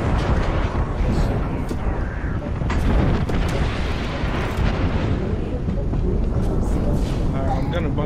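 Airstrike explosions in the video game Apex Legends: continuous loud booming and rumbling blasts rolling over each other for several seconds, with a voice briefly heard.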